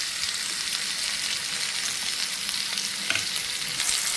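Cut pieces of nalleru (Cissus quadrangularis) stem frying in oil, a dense, loud, continuous sizzle heard up close with faint stirring underneath and no voices.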